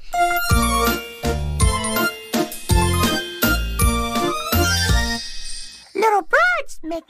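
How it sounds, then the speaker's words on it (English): A tinkling music box plays a bright, plucked melody in a steady rhythm, close and clear, and a few high bouncing chime-like tones follow at the end. "Unless it's a music box. Oh, very pretty."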